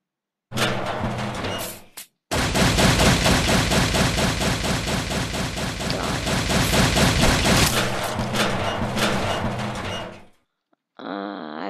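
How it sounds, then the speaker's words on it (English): Video game Happy Wheels: loud, sustained rapid gunfire like a machine gun rattles for several seconds after a short opening burst, then cuts off abruptly. "I got shot"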